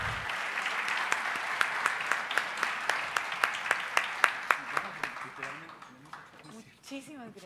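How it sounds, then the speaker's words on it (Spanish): An audience at a national science, technology and society congress breaks into applause, a dense wash of clapping with distinct louder claps standing out, tapering off over several seconds as a voice begins speaking at the end. "Un buen aplauso."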